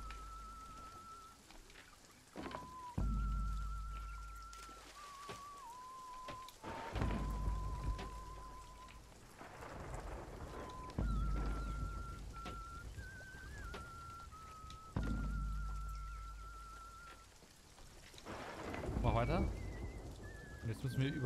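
Storm rain in the video game Sea of Thieves makes a steady, soft hiss under whistling musical tones and occasional louder gusts, with people speaking throughout.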